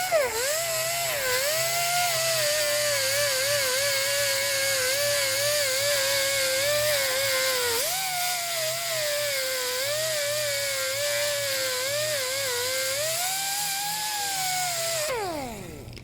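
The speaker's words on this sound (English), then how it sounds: "You can just take your old wire wheel and" A wire wheel on a power tool scrubbing rust off the body of a Foxbody car, a loud, continuous high whine with a grinding edge that shifts slightly in pitch under load and then winds down at the end.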